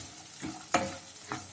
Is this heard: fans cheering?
no